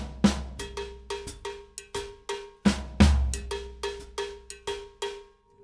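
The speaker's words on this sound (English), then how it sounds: "Play this sort of syncopated pattern up on the cowbell," A cowbell on a drum kit plays a syncopated pattern of crisp, ringing strikes in an uneven rhythm, loud and close with no talking, in the style of a classic rock drum groove.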